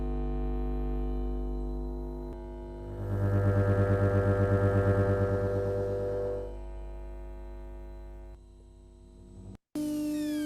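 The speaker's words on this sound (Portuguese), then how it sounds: "esse som que vocês estão escutando é a vibração do campo elétrico da luz transformado em som." Electric field vibration from overhead lights turned into sound: a steady, droning electrical hum rich in layered tones that swells louder in the middle, fades back, cuts out briefly near the end and then resumes.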